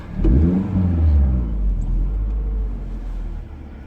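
A car with an Agency Power 2.25-inch S-pipe exhaust downpipe drives with a deep, throaty exhaust rumble that swells as it accelerates, then settles into a steady growl.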